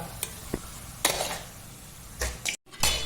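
A tomato, onion and yogurt mixture being stirred in a pot for beef biryani, with a few scraping strokes and soft sizzles in separate bursts, close by, with no voices.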